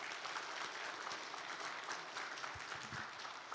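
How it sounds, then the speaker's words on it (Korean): A church congregation at Sunday worship applauds the fathers with a dense, continuous patter of many hands, heard faint and at a distance throughout. "다시 한번 아버지들에게 감사 박수 보내보세요"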